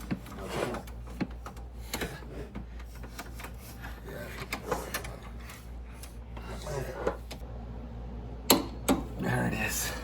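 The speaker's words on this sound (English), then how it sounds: "Torquing to 75 foot-pounds." A torque wrench tightens Loctite-coated suspension bolt threads to 75 foot-pounds during a Ridetech C3 front suspension install, giving a run of close, quiet ratcheting clicks and mechanical creaks, with a couple of sharper clicks near the end.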